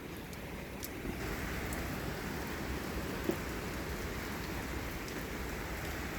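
Heavy rain pours during a thunderstorm with strong winds, a dense continuous hiss of drops hitting surfaces, heard at a moderate level with a few sharper taps and no speech.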